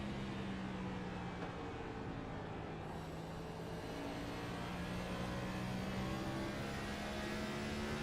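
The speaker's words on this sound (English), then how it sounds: "you can hear the throttle control that Matt Semple is having to use, entering into the corners, waiting on the throttle in the middle" A race car engine at Richmond Raceway rising and easing as the throttle is worked through the corners, a continuous droning whine with gently sweeping pitch heard from inside the car.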